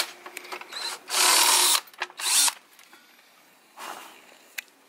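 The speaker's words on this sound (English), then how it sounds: "I'm drilling the holes down for the fan over here" A power drill whirs in three short bursts, a longer run followed by two briefer ones, drilling mounting holes for a cooling fan, with quieter workshop clatter between.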